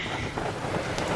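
Rain falling outside an RV, a steady broadband hiss of downpour with soft patter, fairly loud and continuous with no voices.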